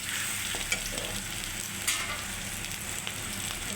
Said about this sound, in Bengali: ফ্রাই হোক, মশলাটা ভাজা হোক